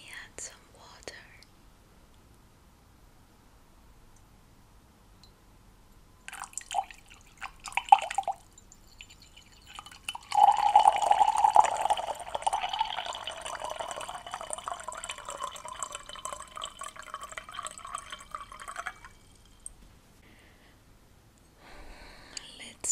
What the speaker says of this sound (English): Let me add some water.